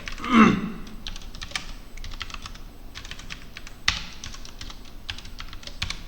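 Someone types code on a computer keyboard, a rapid, uneven run of close, crisp key clicks with a louder clack early on and another midway, and no talking.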